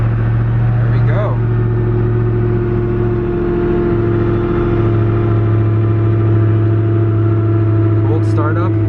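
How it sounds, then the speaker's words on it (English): A Koenigsegg Agera RS engine idles loud and steady just after a cold startup, a deep constant drone close by with a person's voice briefly over it. "Cold startup on the Agera"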